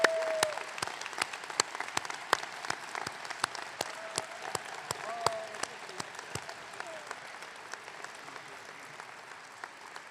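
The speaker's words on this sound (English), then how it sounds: "you may now give them a round of applause" Audience applause for honorees at an MBA commencement ceremony, a faint, distant patter of many hands clapping in a large hall, steady and even throughout.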